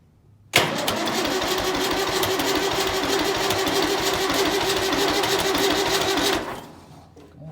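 A 990 engine cranks and catches on a chilly day, then runs at a loud, steady, rough idle close by for about six seconds before shutting off.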